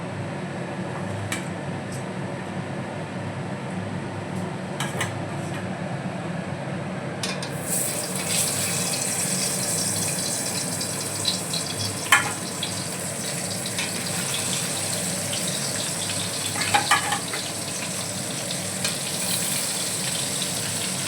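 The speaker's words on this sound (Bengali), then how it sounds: "তেল গরম হয়ে গেছে এবার মাছগুলো আমি দিয়ে দেবো" Bhola fish frying in hot oil, with a moderate sizzle that suddenly swells into a loud, dense crackling hiss as the fish go in, then holds steady with a few brief pops.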